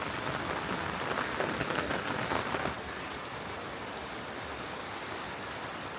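Rain falls steadily on surfaces during a rainy day, a dense even hiss that is a little heavier at first and then settles, with no voices.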